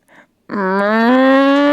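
A voice imitates a cow's moo, the kind made during labour: a short murmur, a pause, then one long, loud, sustained moo that holds steady to the end.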